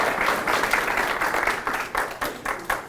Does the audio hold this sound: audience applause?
yes